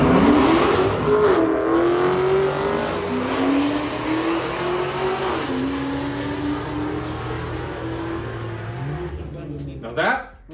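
A Dodge Charger drag race car makes a track day run. Its engine roars loud and close, rising through several gear changes in long stepped pulls before a sharp burst near the end as it backs off.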